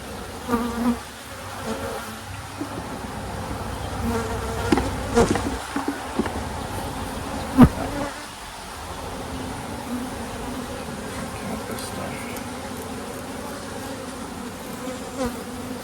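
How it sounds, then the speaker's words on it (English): Honeybees buzz continuously and densely as a frame of bees is shaken into a hive, a close, steady swarm drone with a few soft knocks and bumps. "So let's put one frame of bees in, shake a frame of bees in there."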